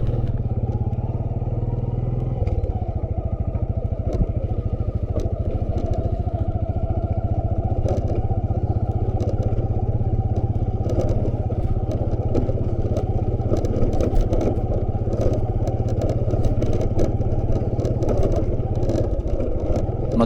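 A motorcycle engine drones steadily and close by as it rides a rough road through a tea plantation lined with trees, with rattles and clatter from the bumpy surface over the constant hum.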